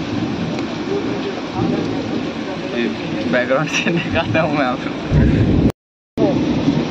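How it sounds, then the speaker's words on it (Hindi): Heavy rain pours down at a lakeside old park cafeteria in Hazaribag, making a dense, constant hiss and patter close by. Someone talks over it throughout, and the sound cuts out briefly near the end. "बहुत तेज़ बारिश हो रहा है"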